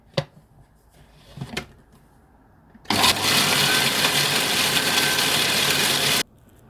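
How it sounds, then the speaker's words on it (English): Oreos and melted butter crushed in a food processor: a couple of faint knocks, then a loud, steady whirring grind for several seconds that stops abruptly. "I'm going to add in the Oreos and some melted butter. Now you're going to crush it."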